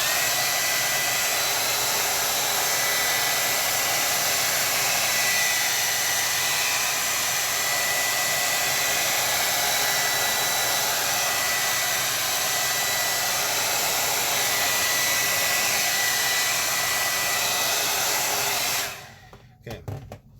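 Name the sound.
blow dryer drying watercolor paper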